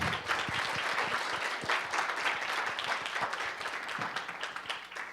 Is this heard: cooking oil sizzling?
no